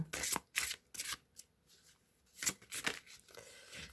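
Tarot cards being shuffled by hand, a run of crisp riffling bursts and soft slaps separated by short pauses, close and fairly quiet, with no voices.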